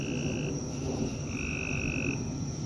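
Frogs croak steadily and loudly in a dense chorus as rain begins, with sustained high trilling calls layered over a continuous low rumble of rain, nearby and unbroken.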